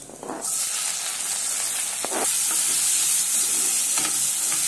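Sliced onion sizzles and hisses steadily in hot oil in a pan for kaleji sukha, with a few scraping stirs, a continuous loud frying sound and no one speaking.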